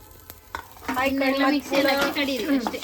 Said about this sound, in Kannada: ಇಷ್ಟು ಲೈಟಾಗಿ ಫ್ರೈ ಮಾಡ್ಕೊಂಡ್ರೆ ಸಾಕು